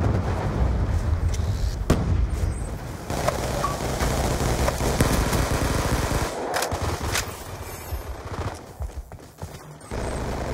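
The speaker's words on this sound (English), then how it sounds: "Hellstorm missile inbound." Hellstorm missile strike in Call of Duty on Nuketown, dense rattling gunfire and blasts forming a continuous loud barrage with sharp cracks and rumbling explosions, no talking.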